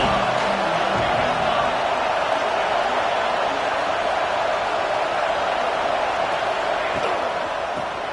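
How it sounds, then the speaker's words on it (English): A loud, steady roar from a stadium crowd in an American football video game, a dense wash of cheering that holds without letup for several seconds. "This crowd ready to make its presence known."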